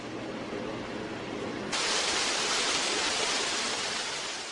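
An artificial waterfall at a hospital pours with a steady broadband rush of falling water, loud and continuous, growing noticeably stronger partway through.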